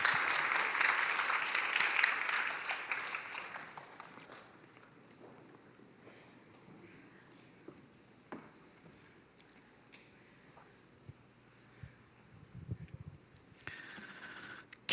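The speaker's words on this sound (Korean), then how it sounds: "박수" Church congregation at a Sunday youth worship service bursts into loud applause that fades out after a few seconds, leaving a quiet room with scattered faint shuffles and small knocks.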